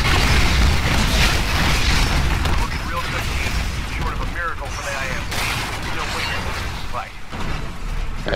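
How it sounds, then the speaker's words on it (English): Cluster missile explosions in the Titanfall PC video game make a loud, continuous rumble of booms and mechanical clatter, with a voice talking over the barrage throughout. "Oh no, he's got my cluster missile."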